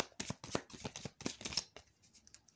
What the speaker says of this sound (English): I don't know why I was shuffling that already.